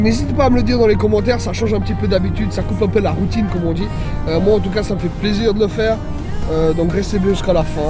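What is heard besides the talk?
No everyday noise stands out behind the speech.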